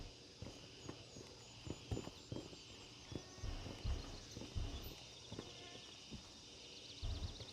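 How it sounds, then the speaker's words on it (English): Footsteps in the Gray Zone Warfare video game: a run of irregular, fairly soft steps scattered over a steady ambient background, some landing heavier than others. "I swear I heard footsteps,"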